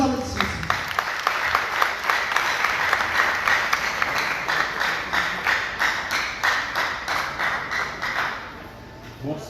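An audience at a Catholic youth pastoral gathering in Port-au-Prince applauds a coordinator, loud, dense clapping that swells then tapers off near the end.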